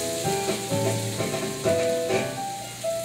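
Chopped bell pepper, onions and garlic hitting a hot pan, a loud close sizzle that swells as the vegetables go in and keeps crackling with a few stirring scrapes, with no voices.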